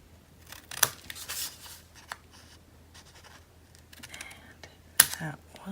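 Scissors cutting folded paper for a spring farmhouse craft, heard as a few short snipping and crisp rustling bursts, close and moderately quiet, with brief pauses between cuts.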